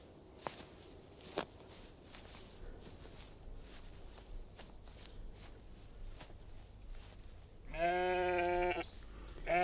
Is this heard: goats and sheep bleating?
yes